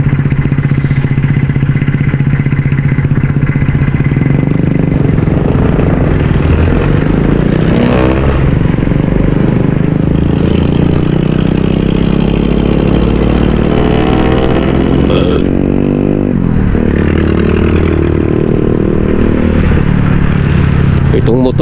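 Old, worn motorcycle engine running close by, a loud continuous rumble that rises and falls with throttle, with clattering texture and occasional speech over it.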